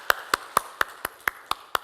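Church congregation clapping together during a sermon, eight sharp, evenly spaced claps in a quick steady rhythm, clear and close, with quiet between each beat.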